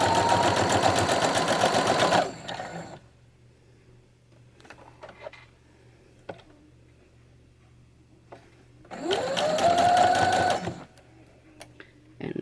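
A sewing machine running a standard stitch on a quarter-inch quilting seam whirs in two steady bursts, one at the start and one near the end, with quiet handling clicks and rustles between them.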